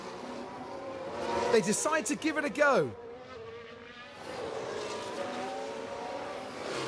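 Oscar Piastri's McLaren Formula 1 car in F1 Manager 23 sweeps past, its engine whine rising and then dropping sharply in pitch as it goes by, with a commentator talking over the moment.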